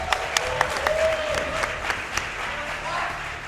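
Live audience clapping and cheering at a Summer Games Done Quick speedrun marathon, as a Binding of Isaac: Rebirth run begins; a steady wash of applause with sharp individual claps and a voice over it.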